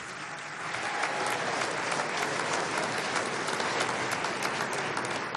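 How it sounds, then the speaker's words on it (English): Sustained applause from a large audience honoring heads of state at a CARICOM summit ceremony, a dense, steady wash of many hands clapping that swells in after a brief start and holds evenly throughout. "let's give a warm round of applause for all our heads of state"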